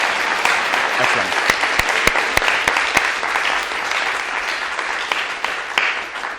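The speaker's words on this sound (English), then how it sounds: "let's have a second round of applause that she can hear now" A conference audience claps in a steady dense burst that holds for several seconds, with a few sharper individual claps standing out and some voices faintly underneath.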